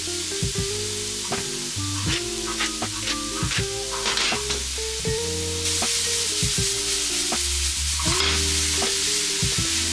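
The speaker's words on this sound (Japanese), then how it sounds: "カリフラワーの方、こちらねオリーブオイルで軽く炒めていきます。" Cauliflower stir-frying in olive oil in a pan, a steady loud sizzle with repeated scraping and stirring strokes throughout, close by and without talk.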